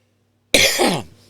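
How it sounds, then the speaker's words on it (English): A single loud, close cough bursts out after a moment of silence, with a rough, throaty quality that fades quickly. "Sorry about the cough, like I said, sinuses."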